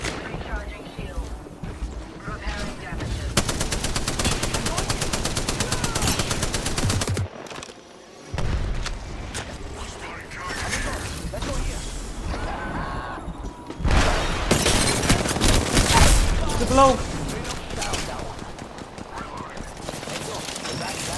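Gunfire during a firefight in the video game Apex Legends, intermittent loud bursts with a sustained barrage near the end, mixed with game effects and talk throughout.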